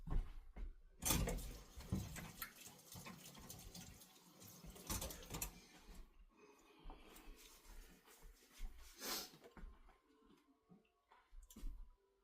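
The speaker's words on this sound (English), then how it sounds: "let me rinse my hands" Water runs from a kitchen tap as hands are rinsed, a splashing, uneven stream with a few louder gushes and knocks, close by with no talking.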